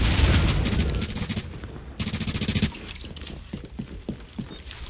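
Gunfire in the video game The Division: dense rapid automatic bursts crackle loudly at the start, cut off, resume briefly, then give way to scattered single shots and clicking, with no talking.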